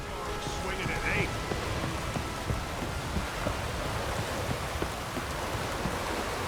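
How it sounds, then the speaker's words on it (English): Steady rain in The Witcher 3 video game hissing and pattering on surfaces, a continuous wash of drops at moderate volume with no clear voices. "Looks like rain."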